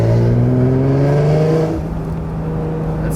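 Supercharged Acura NSX engine heard from inside the cabin, a loud rev with rising harmonic whine that climbs then eases off to a steadier drone after about two seconds, no voices.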